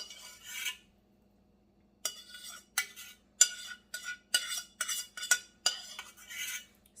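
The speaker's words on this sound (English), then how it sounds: "that metal on metal sound" Metal spoon scraping and clinking against Maxim metal pots and pans while rice is mixed, in a series of sharp, close bursts with short pauses between them and one longer gap, with no voices.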